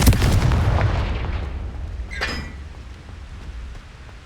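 A Confringo fire spell in Hogwarts Legacy bursts with a loud, deep rumbling blast that fades into a long rolling tail, with a brief crackling flare midway.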